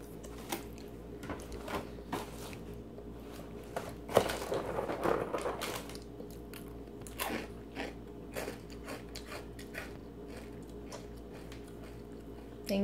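A small child eating cereal at home, with repeated crunchy bites and chewing, some soft squishy mouth sounds, and a clatter around the fourth second, heard close up over a steady low background hum.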